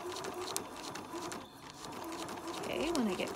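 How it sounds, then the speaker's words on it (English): A sewing machine stitches across a rag quilt block, its close, continuous rapid chatter running throughout with slight shifts in speed and faint handling noise. "I'm gonna keep sewing across here."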